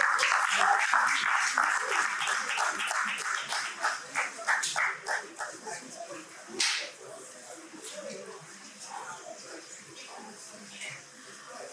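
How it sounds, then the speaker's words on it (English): Audience applause at a film financing conference: a dense burst of clapping that thins into scattered claps and fades over several seconds. "Can we please give him a round of applause?"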